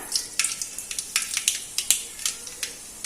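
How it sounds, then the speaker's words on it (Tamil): Mustard seeds sputter in hot oil as sharp, rapid pops and crackles burst irregularly over a soft, steady sizzle, close and fairly crisp. "எண்ணெய் ஹீட் ஆயிடுச்சுங்க கடுகு சேர்த்துக்கலாம்"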